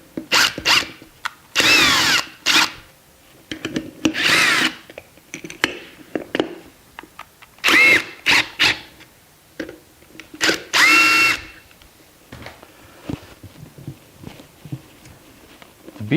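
A power tool drives the ram bolt of a BeadBuster bead breaker on a tire rim. It whirs in several short, loud bursts separated by quieter pauses and clanks. No one speaks.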